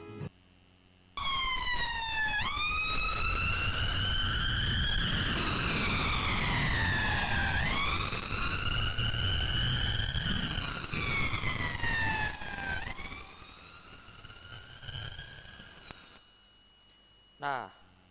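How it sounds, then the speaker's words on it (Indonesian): An ambulance siren wails in rising and falling sweeps as it approaches and passes a listener, loud and close for most of the stretch, its pitch dropping as it recedes before a brief quiet. "silakan saksikan video ambulan yang membunyikan sirene terhadap pendengar"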